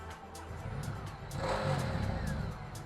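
A 2019 Ducati Hypermotard 950 motorcycle engine revs up in town, a mid-pitched rising drone that swells louder in the second half, with faint rhythmic ticking underneath.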